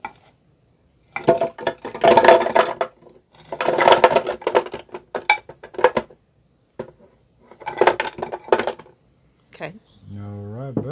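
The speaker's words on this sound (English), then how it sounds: "She's going to throw about 4 cups of frozen strawberries into the handy dandy Blade-O-Matic" Frozen strawberries, about four cups, tumble into a Blade-O-Matic blender jar in bursts of hard clattering and rattling, three loud clusters separated by pauses, ending with a brief tonal whir.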